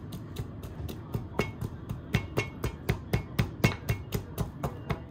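Garlic and wiri-wiri peppers with a little salt are pounded in a mortar, a steady series of firm, close thuds repeating about three times per second, without speech.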